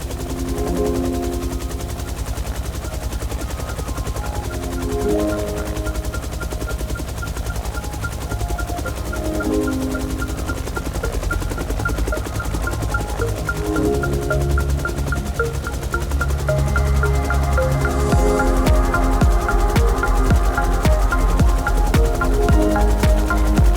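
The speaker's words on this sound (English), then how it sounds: "we'll just listen to the startup from the outside and take a look at it" Huey helicopter in the X-Plane 12 flight simulator, heard from outside as it starts up: a loud, steady turbine and rotor drone with rhythmic thumping that grows fuller and heavier in the last few seconds.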